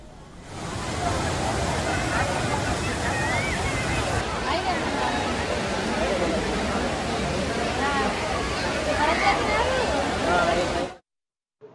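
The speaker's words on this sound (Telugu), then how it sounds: "This is the biggest water fall in Telangana." Bogatha waterfall in Telangana, the state's biggest, sends a loud, steady roar of rushing water that continues unbroken for several seconds before cutting off abruptly.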